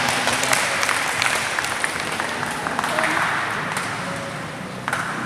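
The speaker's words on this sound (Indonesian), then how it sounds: "tepuk tangannya buat teman kita yang udah berani bertanya" Student audience at a campus public-speaking session giving a steady round of applause for a classmate who asked a question, dense clapping throughout with faint chatter underneath.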